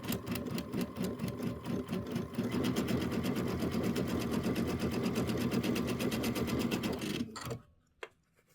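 A sewing machine stitches a Kimberbell Hello Sunshine traditional pieced quilt block in a fast, steady run of rapid needle strokes, close and loud, then stops abruptly near the end with a brief click.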